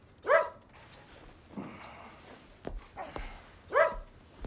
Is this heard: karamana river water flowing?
no